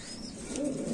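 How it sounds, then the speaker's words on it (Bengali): Large pigeons at a seller's loft give a short, soft, throaty coo, close and clear in a brief burst with no talking. "দেখতে মাশাআল্লাহ কবুতর গুলা একদম বিগ সাইজের"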